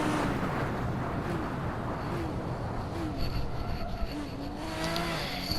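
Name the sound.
Toyota Supra race car driving, from a racing video game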